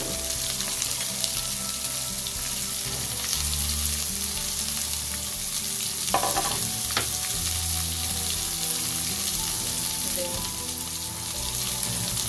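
Chopped carrot sizzling in a pan while rava kichadi is being made, a dense continuous frying hiss with stirring scrapes and a brief clatter midway, close and steady with no talk.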